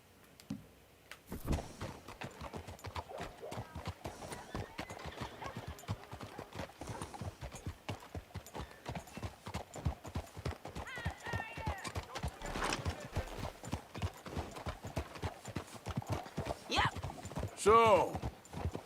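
Horse hooves clip-clop steadily and close in Red Dead Redemption 2, with an occasional whinny, while characters talk over the walking rhythm.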